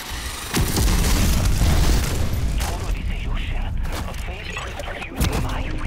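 A heavy explosion in Call of Duty: Modern Warfare III, booming loud and long near the start, then settling into rumbling noise with sharper cracks and a later smaller blast.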